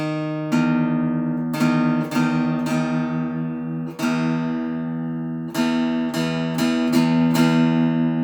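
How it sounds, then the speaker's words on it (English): A twelve-string guitar's paired strings are plucked again and again, each ringing note blending a low and high octave together, sustained and clear. "you can hear that kind of blending together 2 notes an octave apart"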